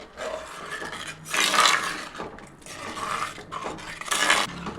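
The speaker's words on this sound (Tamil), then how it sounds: "இப்போ கலந்து விட்டுக்கலாம்" A spoon stirs aara fish curry in a pot, making repeated rasping, scraping strokes against the pot in uneven waves, close and moderately loud, with no talking.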